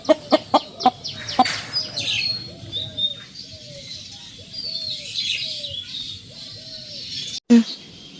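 A home-raised native deshi hen, brought to a market, gives a run of repeated, evenly spaced clucks, close and clear, after a few sharp knocks at the start, with a voice faintly present at times.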